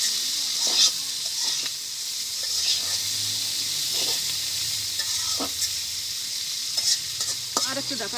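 Onions and long beans fry in a pan with a steady loud sizzle, while a spoon scrapes and stirs in irregular knocks throughout; a faint voice murmurs under it.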